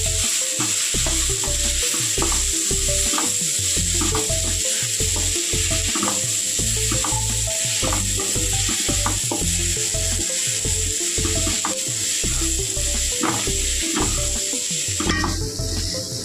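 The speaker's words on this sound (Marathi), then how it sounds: "त्यामध्ये आता आपण टोमॅटो मिक्स करून घेऊया। चांगल्या प्रकारे ते मिक्स करून घ्यायचं आहे।" Tomato being stirred into onions frying in a pan for a matar paneer masala, with a steady loud sizzle and repeated scraping stir strokes close by throughout, no voices.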